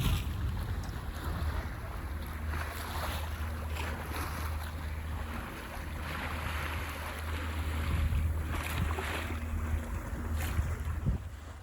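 The sailboat Magic Hawk crosses open water toward Arran, with a steady rush of wind on the microphone, the hull washing through waves and a low continuous rumble, all moderately quiet with no voices.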